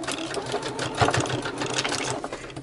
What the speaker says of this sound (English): now I'm going to backstitch it just to secure this under